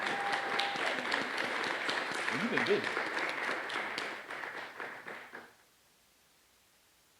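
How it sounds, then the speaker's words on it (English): Audience applause fills a conference hall as a speaker walks to the stage, steady and dense clapping for about five seconds with a voice talking over it, then fading out into quiet. "Please give her a round of applause as she makes her way to the stage."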